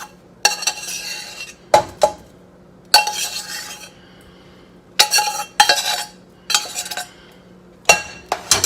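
Cooked rice dumped into a pan over curry paste and stirred, bursts of metal spoon scraping and clinking against the pan with quiet gaps between strokes, no voices.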